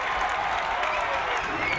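Home crowd at a Bingham boys high school basketball game in a gym, steady applause and cheering as a dense, even wash of clapping at moderate distance, with a voice speaking faintly beneath it.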